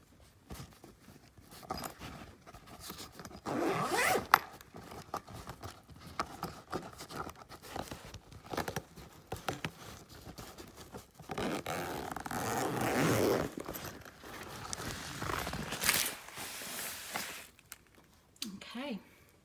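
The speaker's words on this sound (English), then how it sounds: "double zipper." Double zipper pulled open on a canvas carry case for a Coleman camp stove: close, scratchy zips in several bursts with rustling of the fabric, while a soft voice talks.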